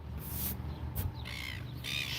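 Seagulls call overhead at a roadside stop in Oamaru, giving several bright, squawking cries in short bursts over a steady low rumble of traffic or an idling engine.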